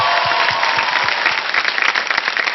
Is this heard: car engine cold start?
no